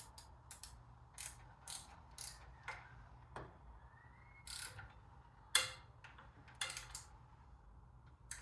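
A ratchet wrench tightens the cylinder head hold-down on a Ford Model A engine, giving a run of close, crisp ratcheting clicks in short irregular bursts with brief pauses between strokes.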